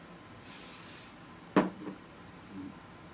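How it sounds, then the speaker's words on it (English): One soft hissing burst from a spray bottle, then a short knock and quiet room noise. "she heard the spray bottle"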